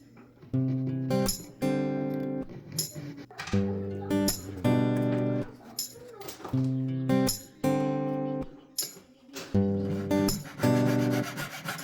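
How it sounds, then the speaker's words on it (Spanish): A jeweler's saw makes repeated back-and-forth passes cleaning metal for earrings, giving a rhythmic, tonal rasping in about a dozen steady strokes, close and moderately loud. "Este pase de sierra hay que repetirlo al menos 2 veces para lograr una limpieza lo mejor posible."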